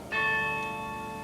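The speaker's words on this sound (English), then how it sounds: "From the stunning, silent beauty of the spire comes the joyous, living, throbbing sounds of bells." A carillon bell strikes in the Crystal Cathedral bell tower at a dedication ceremony, one clear bright stroke that hangs in a long, slowly fading ring.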